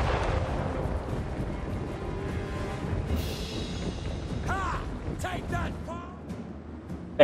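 Cannon fire from an artillery battle in the Total War: Warhammer video game, a continuous rumbling barrage of booms mixed with battle noise, while someone talks over it throughout.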